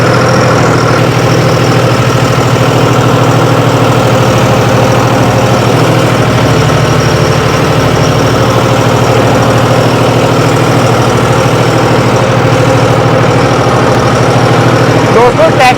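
A tractor running a rotavator through farm soil drones loudly and steadily at constant revs, a heavy continuous engine hum with mechanical vibration that never drops, close to the microphone.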